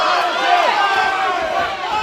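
A crowd cheering at an FURY MMA fight near the end of a round, a continuous loud roar of voices and shouts filling the arena for the whole moment.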